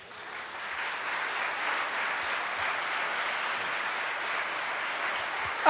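Congregation clapping in a church during a sermon, a steady dense wash of applause held at an even level throughout, moderately distant and unbroken by talk.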